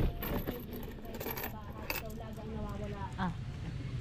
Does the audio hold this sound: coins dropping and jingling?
yes